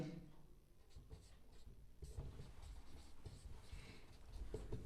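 Pen writing notes by hand on paper, with continuous close scratching and tapping strokes and no talk.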